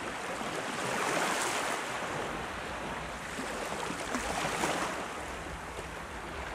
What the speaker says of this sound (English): Listen to the sounds of the waves.